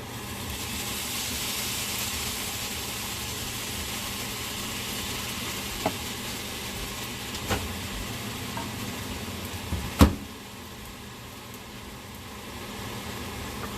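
Fried rice sizzles steadily in a hot pan as about a tablespoon of soy sauce goes in, a continuous close hiss broken by a few sharp utensil clicks, with no talking.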